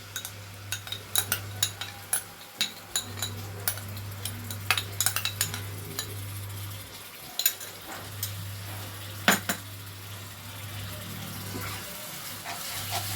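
Sour yogurt hits hot oil in a pan while cooking an egg paneer dish, giving a steady close sizzle with clinks of a spoon stirring, no talk.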